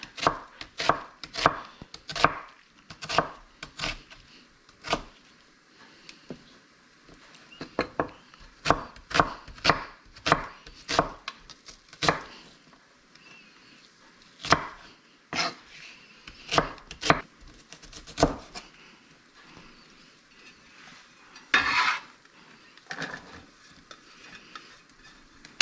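A knife chops through an onion with a small patch of rot in its middle, giving a run of sharp, close board knocks in quick bursts with short pauses between them and no talk.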